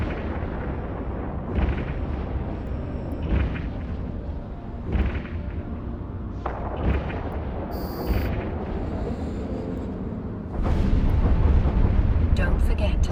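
Spaceship weapons and explosions from EVE Online combat: a string of heavy, rumbling booms bursts out every second or two over a steady low drone, swelling into a louder, denser blast near the end.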